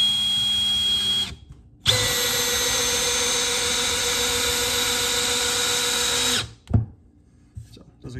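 A Milwaukee M12 Gen3 hammer drill on speed 1 drives a 3 1/8 inch number 9 GRK screw with a loud, steady motor whine: one short run, a pause, then a long continuous run before it stops, followed by a few brief bumps.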